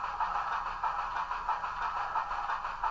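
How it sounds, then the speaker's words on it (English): Model steam locomotive with a Tsunami2 sound decoder coasting, giving a steady, close mechanical hum with a soft rhythmic pulsing and no voices. "And you can hear as the locomotive coasts."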